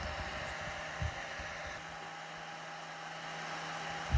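Cooling fan of a CNC3018 laser engraver spinning, a steady whirring hum with a faint click near the start and end, no voices.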